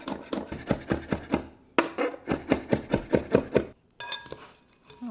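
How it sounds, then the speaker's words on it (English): A knife slicing two green onions on a cutting board, a quick even run of crisp chops, a short pause, then another steady run, close and distinct with no talk. "to this mix I want to slice 2 green onions."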